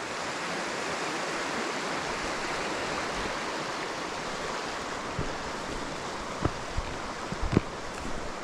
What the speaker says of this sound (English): it's like rolling down and catching the water below, so it's creating that roll back on the water